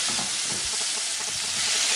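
Onions and chili sizzling and frying in a pan while being stirred, a steady loud hiss with faint scraping stir sounds throughout, no talk.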